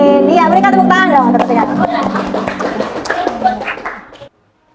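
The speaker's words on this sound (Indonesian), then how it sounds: "berikan tepuk tangan dong" Students in a classroom clap their hands after a short quiz, a brief burst of light clapping mixed with lively talk and a chuckle, close by, stopping abruptly into silence.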